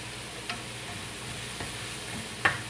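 Pre-fried milkfish (bangus) for sisig goes into a hot pan, giving a steady sizzle and light frying crackle with a few brief clicks and knocks from the pan, close and moderately loud.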